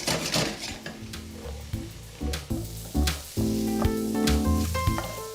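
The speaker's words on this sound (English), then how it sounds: "So I'm just going to saute those for about 10 minutes until they're really meaty and delicious and tender." Mushrooms sautéing in a pan for beef bourguignon, a bright sizzle mixed with repeated utensil scrapes and knocks against the pan, fairly loud and close, no voices.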